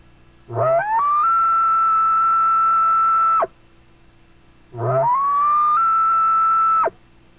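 Two long, high whistling tones rise from a low start and hold steady, an elk bugle imitated on a diaphragm call, separated by a short pause.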